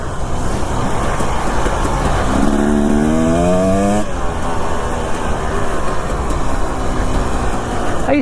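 A dirt bike fitted with an FMF 2.1 silencer drones loudly and close throughout, its engine pitch climbing in a rev midway before settling back to a steady buzzing run.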